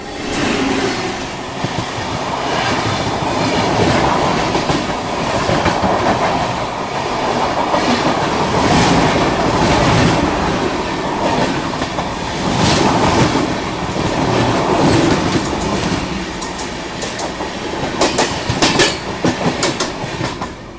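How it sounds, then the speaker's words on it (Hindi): The Jammu Tawi–Durg Humsafar Express passes close by at speed near Mathura, a loud, sustained rumble with rhythmic clickety-clack of wheels over rail joints for the whole stretch. "दुर्ग की ओर जाने वाली जम्मू तवी दुर्ग हमसफ़र एक्सप्रेस। काफ़ी अच्छी खासी रफ्तार में आ रही है"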